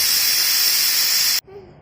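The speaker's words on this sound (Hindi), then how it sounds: "मेरे कुकर में आती है 5 सीटी" A kitchen pressure cooker whistle shrieks as it vents steam, a loud sustained high hiss that cuts off abruptly, leaving a quiet room with a faint tone behind it.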